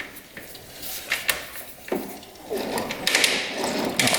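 A 1967 Honda Dream motorcycle engine that hasn't run in over 50 years is kicked over several times by hand, giving irregular mechanical clunks and rattling with scraping metal noise and no firing.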